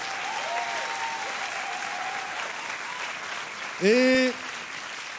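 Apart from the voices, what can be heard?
church congregation applauding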